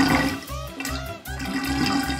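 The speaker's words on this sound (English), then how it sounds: "we gotta drain away this mess using this. It's a special water drainer." A special water drainer sucks away a liquid mess, giving a steady, close rush of gurgling, flushing water that runs for about two seconds without talk.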